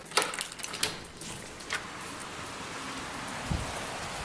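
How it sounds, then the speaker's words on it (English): Wind rushes steadily outdoors, with a few sharp clattering knocks near the start and a low gust thump later. "It's so windy right now."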